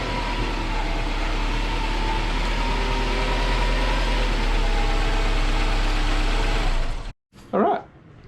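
A Subaru Forester XT engine idles with a steady, close, low rumble for about seven seconds before going silent, followed by a brief thud.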